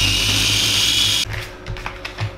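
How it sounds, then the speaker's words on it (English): A small mini blender whirs loudly and steadily while grinding mushrooms into a paste, then cuts off abruptly and leaves a few light clicks and knocks. "So easiest way of doing that is to get them into this little mini blender"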